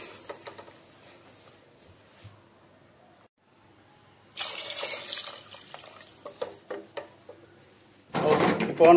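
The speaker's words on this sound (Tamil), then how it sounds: "இப்போது நம்ம தண்ணி ஊற்றணும்." Water poured into a pot of chicken pulav on the stove, a steady gushing rush that starts after a quiet stretch, runs for several seconds and surges louder at the very end.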